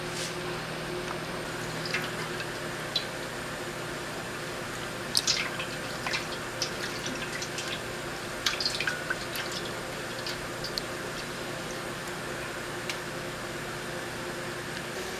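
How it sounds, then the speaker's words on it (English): Sugary basil jelly mixture with green food coloring nearing a rolling boil in a pot: soft bubbling and scattered pops and drips over a steady hiss, fairly close and moderately quiet. "we are just about to a rolling boil"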